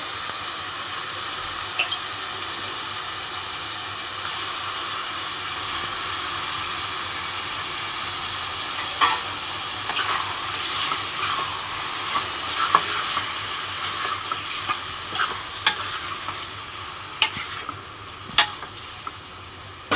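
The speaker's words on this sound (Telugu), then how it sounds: "రొయ్యలు అయితే వేస్తున్నానండి." Prawns sizzle and fry in a pan for gongura prawn curry, a steady hiss with occasional scrapes and clinks of stirring growing more frequent toward the end.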